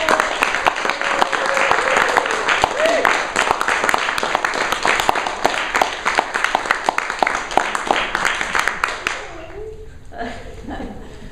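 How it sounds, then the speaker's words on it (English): An audience applauds a guest named Jackie coming up on stage, a loud round of clapping with a voice speaking over it, tapering off into quiet near the end. "Give Jackie a big round of applause"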